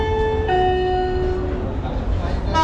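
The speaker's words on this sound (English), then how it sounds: "Can you see how train is coming?" A passenger train arriving at Mathura Junction station in India, with a sustained harmonic horn or whistle tone and rolling rail rumble, fairly loud, as a voice talks over it.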